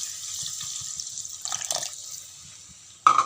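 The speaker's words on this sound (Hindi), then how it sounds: "अब हम इसमें थोड़ा सा पानी ऐड करेंगे।" Water is poured into a pan of sautéed mushrooms and green peas for a curry, a soft hissing trickle that ends with a sudden louder splash and sizzle.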